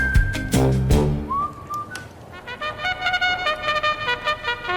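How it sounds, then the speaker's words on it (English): A cavalry trumpet call rings out in clear, sustained tonal notes, with a bright rising phrase followed by a string of rapid, repeated blasts, loud and close, with no one talking. "It sounds like a cavalry trumpet."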